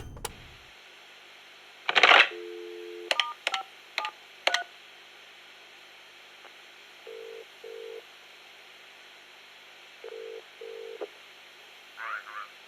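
Telephone dialing tones in the Metal Gear Solid Peace Walker video game: a few rustling clicks, then several spaced electronic keypad beeps, some in quick pairs, clear and moderately loud over a faint hum.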